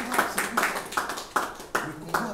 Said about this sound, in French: Est-ce que vous pouvez applaudir pour le Congo?